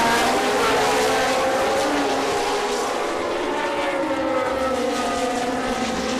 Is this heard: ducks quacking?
no